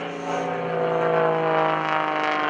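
Aerobatic propeller airplane performing at the 2011 Greenwood Lake Airshow, a sustained buzzing engine drone with strong harmonic tones, loud and steady across the clip with no voices.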